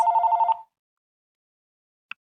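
A telephone gives one burst of rapid trilling electronic ringing for about half a second, close and clear, followed by silence and a single brief faint chirp.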